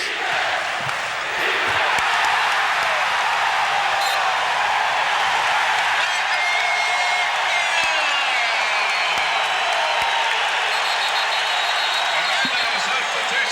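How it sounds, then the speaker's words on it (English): A large basketball crowd at a 1989 Magic vs Pistons game roars and yells continuously for defense, loud and sustained, with some sharp percussive thumps underneath. "listen to the crowd yell for defense"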